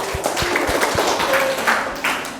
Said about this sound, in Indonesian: Tepuk tangan dong untuk Bintang